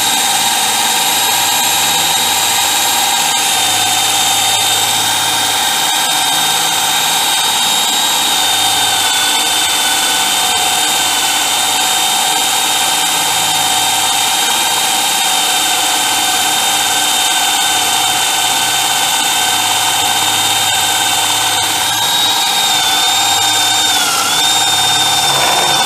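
A cordless power drill running on Camelion 18650 high-drain batteries bores into teak wood, a loud, sustained high motor whine that holds steady throughout with slight dips near the end, and no speech.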